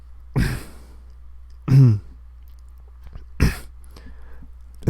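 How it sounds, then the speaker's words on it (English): A man clears his throat three times in short, close, rough bursts, each separated by a second or more of quiet, with no talking. "I had to clear my throat."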